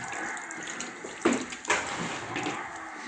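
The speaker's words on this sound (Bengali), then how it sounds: "ভালোভাবে হাতটা সাবান দিয়ে ধুয়ে নিন।" Tap water runs steadily into a sink while hands are washed with soap, a close continuous splash broken by two brief louder gushes as the hands move under the stream.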